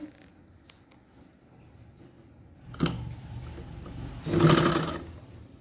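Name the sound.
sewing machine stitching a half collar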